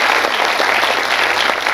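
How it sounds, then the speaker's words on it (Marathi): Loud, steady applause from an audience cheering folk performers at a Marathi film trailer launch event, dense clapping filling the space without a break. "या कलाकारांसाठी जोरदार टाळ्या"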